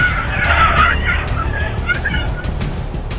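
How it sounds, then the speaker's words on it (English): A car speeding through a red light and skidding, a loud sustained tire screech with engine roar and road noise throughout, close and dominant. "The driver of this car drove very fast without paying attention to the red light."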